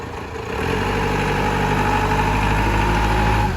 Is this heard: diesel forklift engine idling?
yes